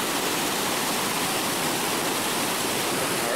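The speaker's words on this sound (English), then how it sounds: "it's just overflowing, so that's why this waterfall is here right now" A waterfall swollen by reservoir runoff after heavy rains pours in a steady, dense broadband roar, close and loud, with no letup and no voices over it.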